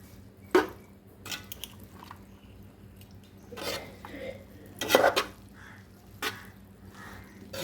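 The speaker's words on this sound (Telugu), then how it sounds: "బాగా మొత్తం మసాలా అంతటికి పట్టేలాగా బాగా మిక్స్ చేసుకుందామండి" Spiced pasta is stirred in a pan with a spoon, a series of close, sharp metallic clinks and scrapes at an irregular rhythm over a quiet background, with no talking.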